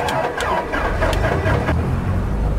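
A light aircraft engine starting in a VR flight simulator for private pilot training, a loud close cranking burst with a few sharp clicks that settles into a rough running rumble.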